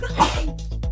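A single short sneeze, close and fairly loud, followed by faint background sounds.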